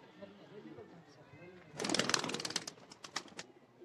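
Golden pigeons in a coop, with low coos and a sudden burst of wing flapping and fluttering nearby, while someone talks over them.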